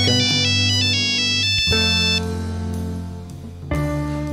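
A telephone ringtone plays loud and close as a bright electronic melody of stepped tones, repeating in short phrases that restart after brief breaks.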